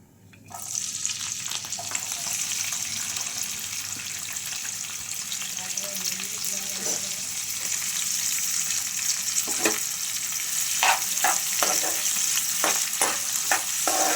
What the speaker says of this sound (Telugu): ఆయిల్ హీట్ అయిన తర్వాత ముందుగా పచ్చిమిర్చి ఉల్లిపాయలు యాడ్ చేసుకుందాం